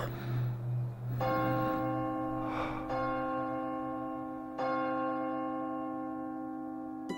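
A church bell tolls three slow, ringing strikes, each one sustaining and overlapping the previous one's fading hum, clear and fairly close with no voices.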